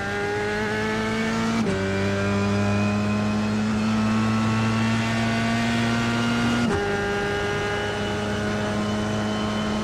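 A race car engine in the iRacing sim screams at steady high revs, with two sharp gear-shift drops along the way. The sound is loud, close and continuous, with no talking over it.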